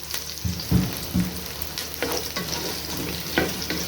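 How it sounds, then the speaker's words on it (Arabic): Carrots and potatoes sauté in a pan for Egyptian-style lentil soup, with a steady oil sizzle and several scraping stirs of the spoon, close and moderately loud, with no talking. "الكلام ده كله اتشوح كده مع بعضه بقى"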